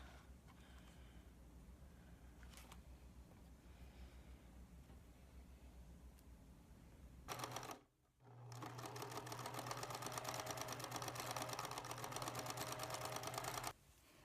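A sewing machine runs a zigzag stitch in quiet bursts, with a short mechanical stutter, a brief pause, then a fast, even, rattling run of several seconds that stops abruptly.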